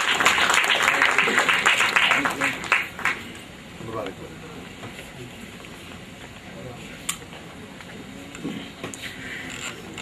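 Audience applause for Madhusudan Agarwal at a social gathering: loud, dense clapping at the start that thins out within a few seconds, leaving a scattered low crowd murmur and a few stray claps.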